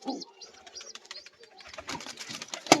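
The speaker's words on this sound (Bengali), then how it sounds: "এটা হচ্ছে একটা বাচ্চা কবুতর" A baby pigeon of the Giribaj breed coos softly in a series of short, close calls, with a brighter burst near the end; low murmuring and a voice sit around the calls.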